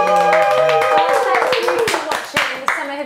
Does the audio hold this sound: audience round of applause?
yes